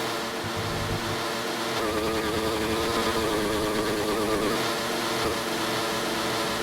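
Rough, strained engine note from a Formula-style racing car in a video game at an Italian circuit, steady and continuous with a harsh, choked buzz throughout.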